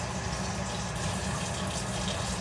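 A pan being washed under a running kitchen tap, a loud steady rush of water pouring without a break, close by, with no speech.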